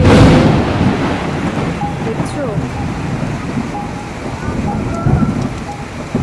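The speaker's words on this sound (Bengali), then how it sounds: "বলতে বলতে বৃষ্টি নেমে গেল। বৃষ্টি পড়ছে" Heavy rain pours steadily with a deep rumble of thunder at the start, and a voice speaks briefly over the downpour.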